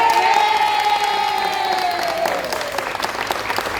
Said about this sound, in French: Et ça, je crois qu'on peut applaudir.